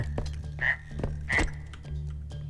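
A frog croaks twice in the video game R.E.P.O., two short rasping calls about a second apart over a low steady hum, fairly close and moderately loud.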